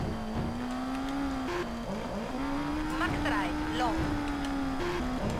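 A rally car engine in the Dreamcast racing game V-Rally 2 drones steadily with shifting revs and a few short gear-change dips, under a continuous layer of game sound.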